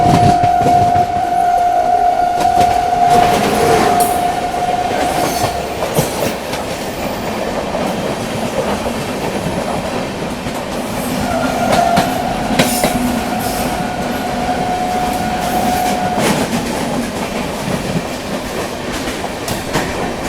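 A train on an Indian railway line rolls past with a steady rumble and rhythmic clickety-clack of wheels, loud and near, with a few brief whistle-like tones over the ongoing noise.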